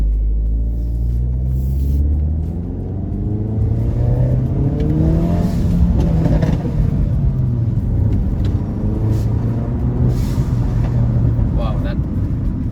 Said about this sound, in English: Now I have it on full vent to atmosphere, so it's like 0 recirculation, so it's like the loudest setting.